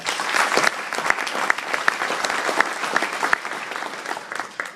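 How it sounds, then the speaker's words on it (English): Sustained audience applause at a fundraising event honoring the committee and supporters, dense even clapping filling the room with no talk over it. "Please give them a round of applause."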